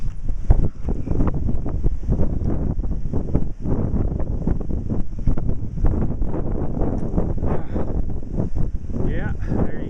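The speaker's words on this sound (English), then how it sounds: "That fucking wind almost blew me off the ladder." Strong Colorado blizzard wind gusting at about 50 miles an hour, roaring and buffeting the microphone continuously at close range, with a voice speaking briefly through it.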